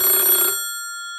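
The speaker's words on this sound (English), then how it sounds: "the phone rang again" An old-style telephone bell rings once in a brief, bright, metallic burst, then trails off into a fading ringing tail and quiet.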